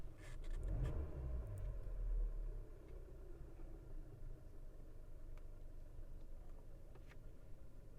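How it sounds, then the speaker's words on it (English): A 2013 Hyundai Sonata GLS engine runs steadily as heard from inside the car, a low, even idle rumble, louder and boomier for the first couple of seconds before settling into a quieter hum, with faint clicks over it. "here I have the car running from the inside"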